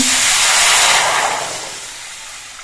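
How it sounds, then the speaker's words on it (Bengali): Water poured from a small mug into a hot kadai bursts into a loud, close steam hiss that peaks in the first second, then slowly fades as the pan cools. "কড়াইয়ের মধ্যে ছোট একটা মগের এক মগ জল দিচ্ছি"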